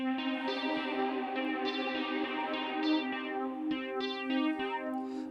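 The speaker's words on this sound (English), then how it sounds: "and add delay, or I can go in here and add reverb." Synth notes with delay and reverb effects, sustained harmonic tones with repeating echoes and a smeared reverb tail, played alone at moderate volume.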